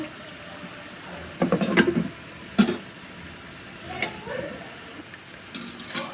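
Vegetable curry is stirred in a pan with a few irregular scrapes and clinks of the spoon over a quiet, low bubbling background.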